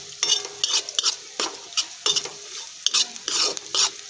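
Onions sautéing in a pan while being stirred, repeated scraping strokes of a spoon against the metal over a soft sizzle, irregular bursts close by, with no talking.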